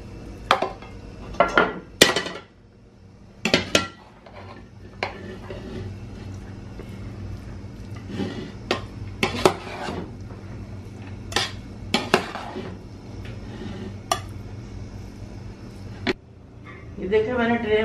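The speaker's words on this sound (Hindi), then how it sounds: "अब इसको ऐसे मिक्स करते जाना है, वो ट्रे में डिश आउट करते जाओ" Cooked chicken biryani rice is mixed in a pot and dished into a tray, with repeated metal spoon scrapes and clanks against the pot while a voice talks between them.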